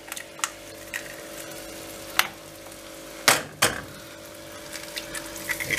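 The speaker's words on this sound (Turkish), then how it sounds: "yumurtalarımızı kırıyoruz" Eggs crack into a pan of butter and oil and start frying, a steady soft sizzle punctuated by several sharp taps and cracks, including a pair of loud knocks midway.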